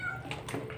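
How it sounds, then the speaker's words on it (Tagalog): A house cat meows for food during a meal of roast chicken, a short, fairly close cry heard over low indoor background noise. "Makikain yung pusa namin."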